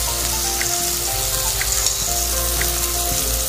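Squid being sautéed in a pan for adobo, a loud steady sizzle and crackle of frying oil throughout, with faint background hum and no talk.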